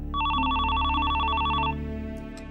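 A telephone rings with a warbling electronic trill for about a second and a half, a steady alternating two-tone ring that stops abruptly, over a low room hum in a drama scene.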